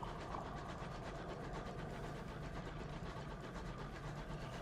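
A locomotive train engine in the game Sunless Skies makes a steady, even mechanical chugging and rumbling, faint and continuous, with no voices.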